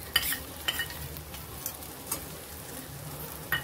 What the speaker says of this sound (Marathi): ते पण छान आपण परतायचंय.